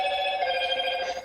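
A phone chimes with a short, steady electronic tone lasting about a second, fairly clear and alone with no talk over it.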